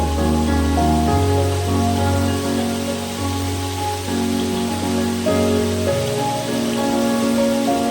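Marinated chicken fries in oil with a steady, rain-like hiss and crackle, loud and close, and a low hum persists underneath.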